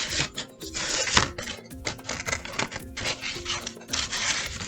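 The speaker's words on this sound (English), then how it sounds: "So then I get my scissors, and I quickly cut it out." Scissors quickly cut a small pink paper heart out for an Easter craft. The snips come as a quiet, rapid run of crisp clicks and rustles, close by and uninterrupted by speech.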